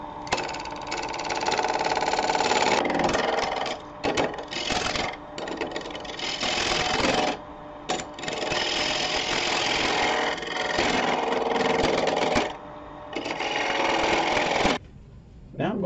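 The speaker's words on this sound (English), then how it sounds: "I'm going to take some of this waste wood off the edge, and I'm going to use a small bowl gouge for that." A wood lathe spins steadily while a small bowl gouge strips waste wood from the edge of a cross-grain box blank, a continuous close whir and hiss broken by brief pauses.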